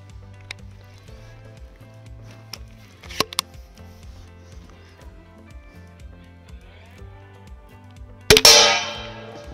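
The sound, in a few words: Mamba Fatality crossbow shot hitting body armor plate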